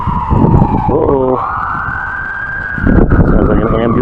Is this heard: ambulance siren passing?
yes